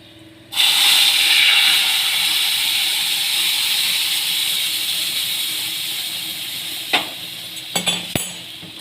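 Hot milk poured onto sev vermicelli roasted brown in ghee bursts into a loud hissing sizzle that slowly fades, followed by a few clinks of a spoon near the end.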